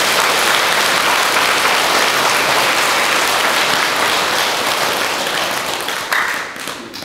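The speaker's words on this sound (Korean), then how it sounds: "여러분 박수 쳐주시고 여러분 쳐주십시오" A seated audience bursts into loud, continuous applause that fills the space evenly for several seconds before easing slightly toward the close.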